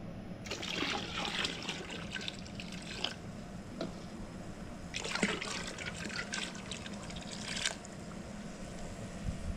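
Liquid is poured from a 4-quart bucket into a Camp Chef 30-quart cooker, a steady trickling splash broken by two louder gushing bursts, with no voices.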